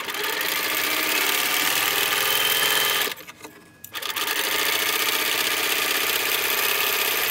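Sewing machine stitching a gold fabric strip onto a rectangle-center log cabin quilt block, a steady loud mechanical whir that stops briefly partway through and then runs on again, with no talking.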